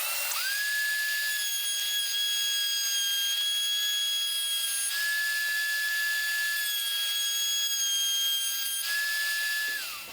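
A router bit spinning at high speed while cutting a sliding dovetail in a wooden workpiece gives a loud, steady whine that holds for about ten seconds and winds down at the end, with no talk over it.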